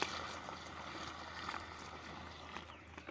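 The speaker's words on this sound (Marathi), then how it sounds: "मस्तपैकी पाणी चालू आहे आता भरायला मस्तपैकी" Water runs steadily into a bucket to fill a 16-litre knapsack sprayer pump for spraying a maize field, a continuous rushing splash with no talk over it.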